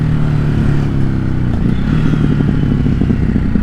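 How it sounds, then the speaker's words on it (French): A 2021 Ducati Hypermotard RVE engine rumbles close and loud, dropping pitch as it downshifts from second to first, with crackling exhaust pops and burbles on deceleration. "la petite pétarade que j'adore quand je passe du deuxième à la première"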